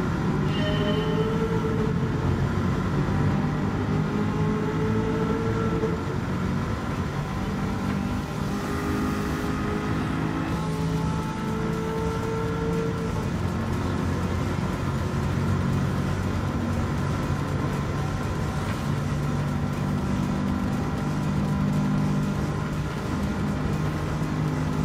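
Chevrolet Camaro race car engine in the video game Gran Turismo 7, a sustained loud drone that shifts pitch steadily through the gears without talk.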